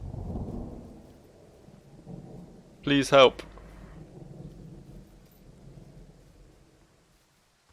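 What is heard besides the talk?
thunderstorm in the video game Firewatch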